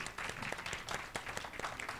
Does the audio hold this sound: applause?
yes